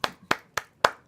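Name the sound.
applause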